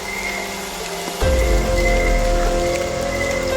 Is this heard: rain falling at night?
yes